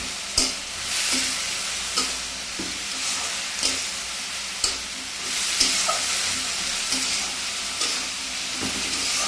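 Sliced banana stem is stirred in a frying pan, with a continuous sizzle and regular scraping strokes of the spatula at a steady rhythm, close up, with no talking.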